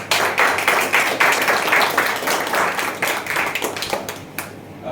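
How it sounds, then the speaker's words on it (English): A Toastmasters meeting audience at a Pongal celebration claps to welcome a speaker, a loud, fairly close burst of many hands that stays steady before tapering at the end. "with thunderous round of applause, welcome Toastmaster Bala"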